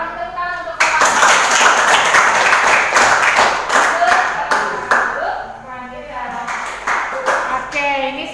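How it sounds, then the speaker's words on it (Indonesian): Students in a classroom clap for a presenting group, a loud, crowded round of hand claps with scattered sharp individual slaps, accompanied by overlapping voices and chatter throughout. "Tepuk tangan untuk"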